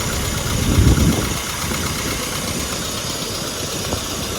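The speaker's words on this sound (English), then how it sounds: "so that's now idling at 30 degrees, right?" Steady idle of a classic Mini engine with ignition advanced to 30 degrees, a close, even rumble with a brief louder surge near the start, no voices.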